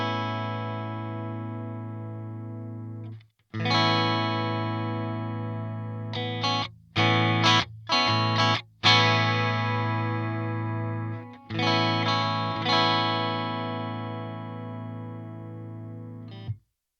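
Clean, dry electric guitar notes with the Mercurial Chorus WS1 free plugin bypassed into an Emissary amp, long sustained tones interrupted by a few quick plucked notes, close and clear with no other sounds.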